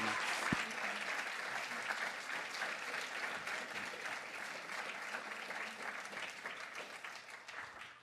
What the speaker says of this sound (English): one more round of applause, if you'd be so kind, for both our poets